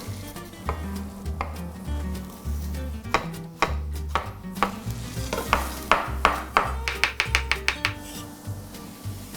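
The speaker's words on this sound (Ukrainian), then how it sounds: "Ми доливаємо ще трішки чесникової олії та по черзі обсмажуємо всі овочі." Vegetables, including bell pepper, fry in garlic oil in a pan, a continuous sizzle broken by repeated sharp scraping and stirring strokes that quicken toward the end, close and clear with no talk.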